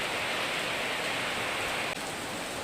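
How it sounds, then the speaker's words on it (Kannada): Heavy rain pours steadily and loudly near a temple, a dense unbroken hiss of water with no gaps and no other sounds. "ಇವಾಗ ಎಷ್ಟು ಜೋರು ಮಳೆ ಬರ್ತಿದೆ ಅಂದರೆ ನೋಡಿ"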